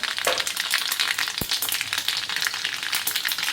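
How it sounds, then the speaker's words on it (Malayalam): Mustard seeds splutter in hot oil on a stove, a loud continuous sizzle broken by rapid crackling pops and one sharp snap near the start, close by with no talking. "അതിലേക്ക് കുറച്ച് കടുക് ഇട്ട് വെക്കാം"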